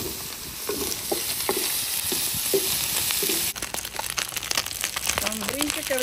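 Liver frying in a little lard in a hot pan, a steady close sizzle with stirring scrapes, while a person talks over it for most of the time.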